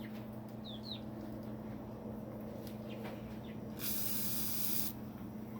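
A single burst of WD-40 aerosol spray hisses for about a second over steady outdoor background hum on a homestead, aimed at carpenter bees, with faint bird chirps earlier.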